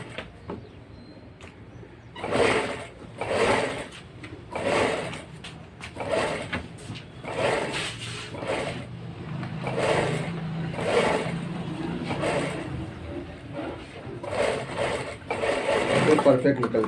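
A sewing machine stitches a cup into a blouse, running in repeated short bursts with brief stops between, close by, while someone talks over it.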